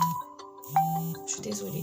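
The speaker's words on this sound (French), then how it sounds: "Il est temps, voilà, c'était mon alarme." A phone alarm plays a short melodic ringtone of bright tonal notes, near and clear, while someone speaks briefly over it.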